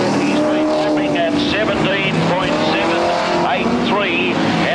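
Super sedan race cars lapping the Newcastle Motordrome during a 1979 Grand Prix, loud continuous engine roar with passing cars and tire squeal, under a race commentator's voice.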